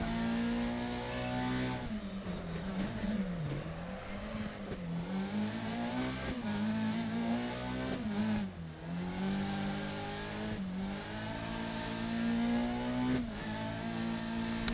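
A rally car in Dirt Rally 2.0 roars continuously through a lap, its engine note rising and falling with gear shifts and revs, steady and close with no talk.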